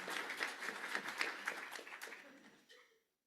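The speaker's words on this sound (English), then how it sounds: "we don't clap after every panelist introduction, but we'll make it an exception for Sandy" A faint audience of a few dozen people at an interfaith forum claps after a panelist's introduction, a brief patter of applause fading out after a few seconds.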